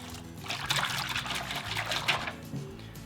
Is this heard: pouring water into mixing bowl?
yes